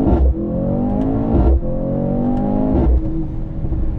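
A Mercedes C63 AMG in manual mode revs hard through three rising pulls, each cut by a quick upshift with a brief engine drop, heard loud from inside the cabin with no talking.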